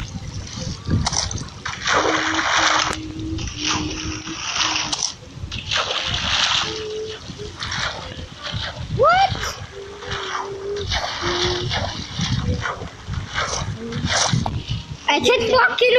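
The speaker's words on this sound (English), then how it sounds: "Hey, look, I can walk in water." Repeated splashing and sloshing of water as a Minecraft character's footsteps wade through it, steady and close, with a voice talking over it.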